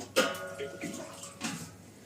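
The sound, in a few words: about one liter of water poured into fried chicken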